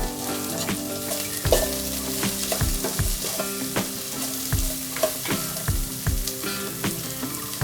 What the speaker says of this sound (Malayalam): സബോള അരിഞ്ഞതും കൂടി ഇടുക. ഈ സമയത്ത് നമുക്ക് ഇത്തിരി കരിവേപ്പിലയും കൂടി ഇതിൻ്റെ കൂടെ ഇടാം.